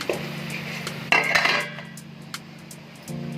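A metal lid set onto a kadhai of simmering leafy vegetables on a low gas flame gives a sharp clatter and brief ringing, over a steady low hum of the stove, with a lighter clink shortly after.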